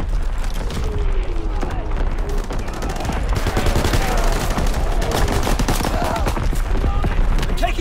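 Artillery strike in Call of Duty: WWII, with dense, continuous bursts of gunfire and heavy impacts booming throughout, loud and close amid battlefield chaos.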